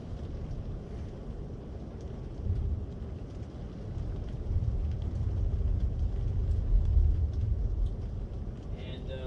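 Severe thunderstorm in Minot, North Dakota, with steady rain and low rolling thunder that swells toward the middle and end, someone talking over the storm throughout.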